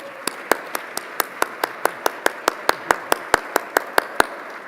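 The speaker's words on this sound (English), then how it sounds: "Can we please have one more round of applause for Vicki Golding?" Sharp, evenly spaced claps ring out in a steady rhythm, about eighteen in under five seconds, at an awards dinner honoring a performer, clear and fairly close over a quiet room.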